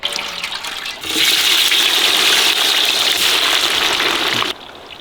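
Hot oil crackles and sputters as spices fry for an elephant foot yam cutlet. The loud, steady sizzle starts abruptly after a quiet moment and cuts off sharply near the end.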